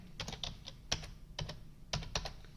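Light, close typing on a computer keyboard while entering a word into a spreadsheet cell in Excel, short clusters of soft clicks with brief pauses over a faint background hum and no speech.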